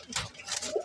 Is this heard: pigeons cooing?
yes